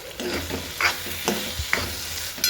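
Ridge gourd vegetable fries in a pan, with spatula scrapes and stirring strokes recurring every half second or so over a steady sizzle, close and moderately loud, no voices.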